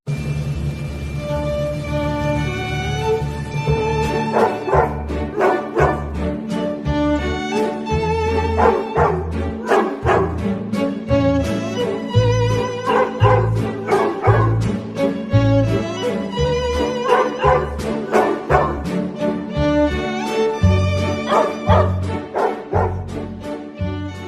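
Dogs barking in a clip played back inside an Instagram video, repeated woofs and yips riding over a loud song with a steady beat throughout.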